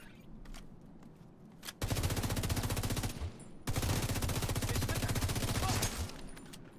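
Video game gunfire: after a few isolated shots, two long, loud bursts of rapid automatic fire ring out, separated by a short pause.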